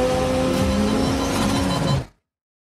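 Racing cars in a street race from the film Fast X roar loudly with engine revs and passing vehicles, a dense rush of motor noise that cuts off abruptly after about two seconds.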